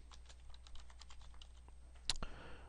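A complex password is typed on a computer keyboard, producing a quick run of soft, light key clicks at close range, capped by a sharper, louder key press near the end.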